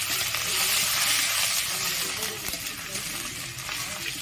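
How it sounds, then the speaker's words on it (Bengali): Ginger paste hits hot oil with turmeric in a pan, bursting into a loud hissing sizzle that gradually settles into a softer, steady crackle with occasional light knocks. "এখানে আমি প্রথমে দিয়ে দিলাম আদা বাটা"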